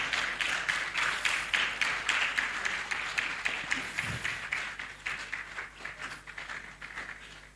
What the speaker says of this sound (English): we will go by the tradition that we clap until he gets the seat